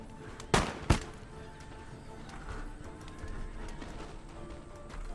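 Two sharp musket volleys crack close together from Janissary Musketeers in a strategy game battle, followed by a low rumbling battlefield ambience with faint distant activity.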